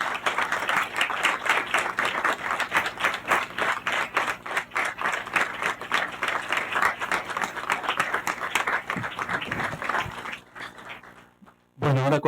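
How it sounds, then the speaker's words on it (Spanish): An audience at an anniversary awards ceremony gives loud sustained applause, many hands clapping in a dense rhythmic wash that thins out and fades near the end. "me parece un fuerte aplauso para..."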